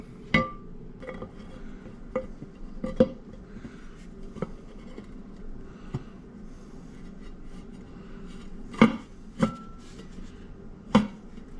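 Glass porthole pieces set into their frames, giving a series of sharp clinks and knocks, some isolated and a cluster near the end, close and fairly distinct against a quiet workshop background.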